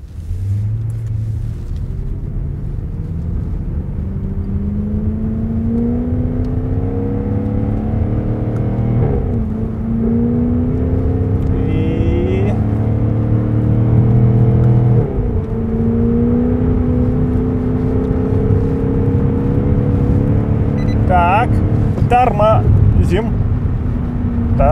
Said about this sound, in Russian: Сначала разгон до сотни, а потом торможение с сотни.